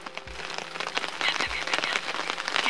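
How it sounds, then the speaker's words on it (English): Rain patters steadily on a wooden tent platform beside a bay on a canoe trip, a dense, continuous drumming of drops with brief low thuds, close and fairly loud throughout. "Just sucks about the rain"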